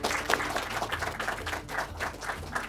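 Studio audience applause for teams entering a televised law quiz semi-final, a steady wash of clapping lasting a few seconds at moderate level with faint music underneath.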